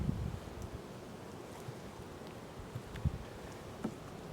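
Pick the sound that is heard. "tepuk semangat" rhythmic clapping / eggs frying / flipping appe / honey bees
honey bees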